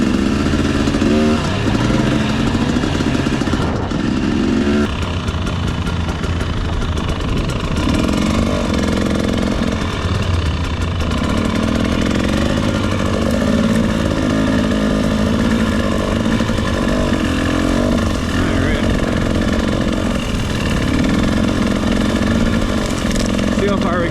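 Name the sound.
dirt bike engine running on a hill ride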